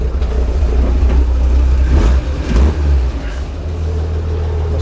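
A 1942 car engine warming up, a loud close rumbling idle that swells into a couple of revs midway before settling back to a steady low drone.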